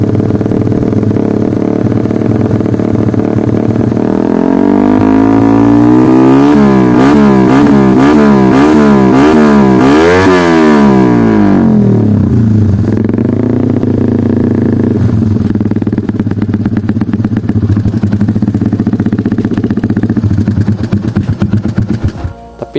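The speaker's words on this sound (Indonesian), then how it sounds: "Mungkin kita bisa cek sound untuk spek yang udah disebutkan tadi dan menggunakan knalpot" A modified Yamaha MX New 135 motorcycle with a Proliner exhaust runs loud and close, rising through repeated throttle blips and revs before settling back toward a rough idle and cutting out.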